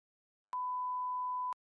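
A censor beep sound effect: one steady, clean electronic tone lasting about a second, standing alone in silence with sharp starts and stops.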